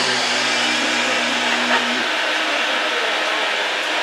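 A coffee house blender whirs loudly while making a drink, a steady motor drone that shifts lower partway through over a constant wash of noise.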